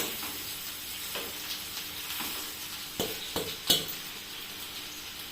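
Boiled rice stir-fried in a pan for vegetable fried rice, giving a faint continuous sizzle with several soft scraping stirs and a few clicks of a spatula against the pan toward the end.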